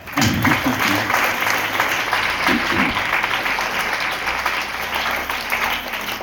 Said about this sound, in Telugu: మీరందరూ చప్పట్లు కొట్టండి ఒకసారి